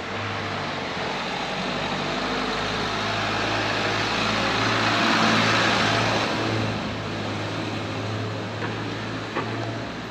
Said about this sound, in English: I can hear a vehicle coming